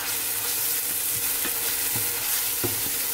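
Prawn curry fries in a pan, a continuous sizzle broken by several soft scraping strokes of stirring at irregular intervals, close and fairly quiet, with no voices.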